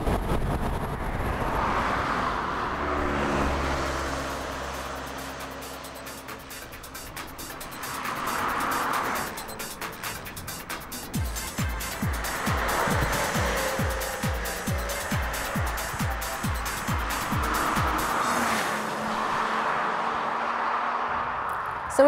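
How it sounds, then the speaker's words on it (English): A car engine revs hard and rises in pitch, then drops off into rapid exhaust pops and crackles before revving up again, loud and close. "it's topped off by the sound that comes out of the exhaust"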